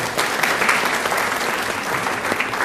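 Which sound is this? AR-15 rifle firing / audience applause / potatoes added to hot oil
audience applause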